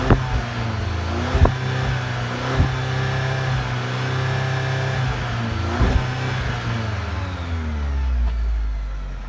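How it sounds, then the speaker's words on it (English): A 2019 Chevy Silverado pickup with a 2.7L turbo four-cylinder revs up and settles several times, the exhaust note rising in pitch and falling back, with sharp blips near the start and a low rumble closing out. "just not enough displacement in this engine to make that exhaust sound that good"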